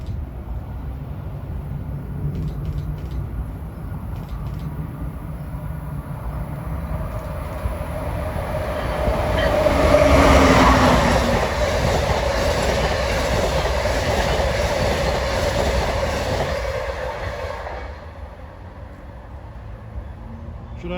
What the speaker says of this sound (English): we got Amtrak 140 from Washington to Springfield